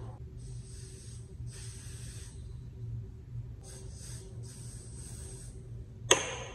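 Several short hissing bursts from a spray can during a wig installation, each lasting about a second with pauses between, followed by a sharp click near the end.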